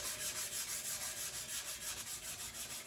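Knife blade hand-sanded with 220 grit paper to remove drum sander marks, a quiet, even back-and-forth rasping in steady strokes, close up with no talking.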